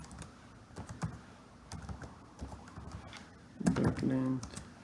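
Keys tapped on a computer keyboard while entering array code, a run of light clicks spread across several seconds, with a person speaking briefly near the end.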